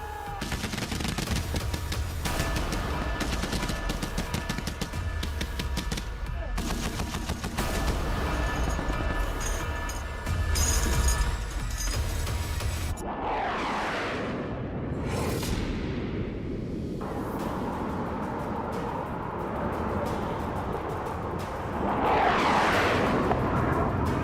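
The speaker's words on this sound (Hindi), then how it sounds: "अगर जब रात में गोलीबारी होगी तो क्या होगा, गौर से देखिएगा।" Rapid bursts of gunfire at night, dense crackling volleys through the first half, then scattered louder reports and sweeping whooshes over a constant roar.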